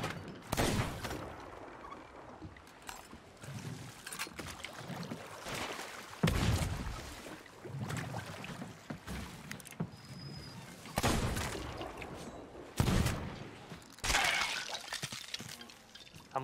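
Cannon fire in the Sea of Thieves pirate game, a series of heavy booming blasts spaced every second or two, some with splintering crash layers, over a busy background of water and ship noise.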